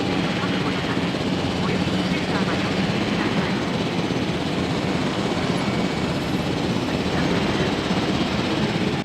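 Steady helicopter rotor and engine drone from the video game Jurassic World Evolution, loud and continuous throughout, with a dense low-frequency thrum and no pauses.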